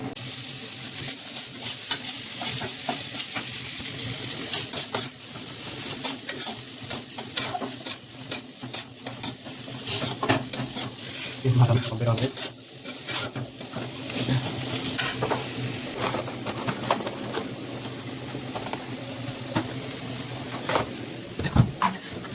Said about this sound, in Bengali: এখন আমার ভাতও হয়ে গেছে, পেঁয়াজ ভাজা হয়ে গেছে।